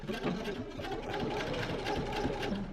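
A sewing machine tacking a casing on a Terrazzo dress, running in a steady continuous close mechanical whir for the whole stretch with no talking.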